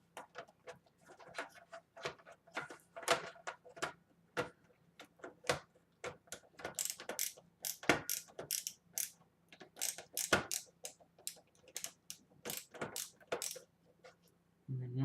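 A screwdriver drives a screw into plastic inside a desktop computer case, making a series of close, sharp ratcheting clicks and creaks at an irregular rhythm throughout, with no talking.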